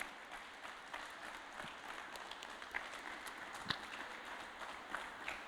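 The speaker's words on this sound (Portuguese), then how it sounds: "Uma salva de palmas para Jesus." A Sunday church congregation applauds for Jesus, a steady, somewhat distant patter of many hands clapping with occasional louder individual claps, continuous and without talk.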